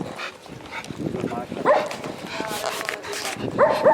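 A dog near Karlstejn Castle in the Czech Republic gives a few short yips and barks close by, mixed with outdoor background noise and some talking.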